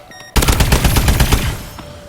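An AE4 Widowmaker rifle firing in a video game, one loud, close burst of rapid shots lasting just over a second before it rings out and fades.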